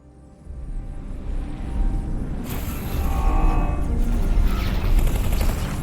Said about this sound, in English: let's get a bit closer and blast away with the plasma cannon